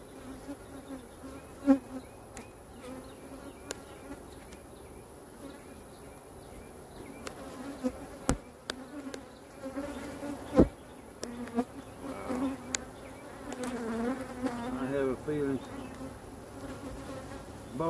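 Honeybees hum around an open beehive during an inspection, a steady close drone with some individual buzzes passing near, and occasional sharp knocks from handling the hive boxes.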